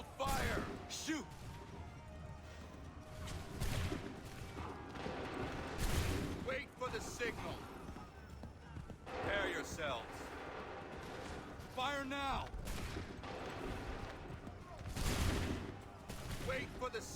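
Volleys of musket gunfire ring out in the video game Assassin's Creed III, in several loud, crashing bursts spaced a few seconds apart, with voices and battle noise between them.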